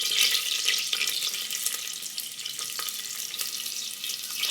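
Mustard seeds, cumin and onion fry in hot oil with a steady, close hiss and fine crackle that holds throughout, with a few sharper pops scattered on top.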